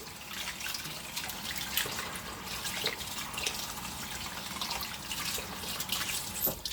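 Tap water runs steadily into a sink while a gutted trout is rinsed under it, a continuous close hiss and splash with small irregular drips and splatters throughout.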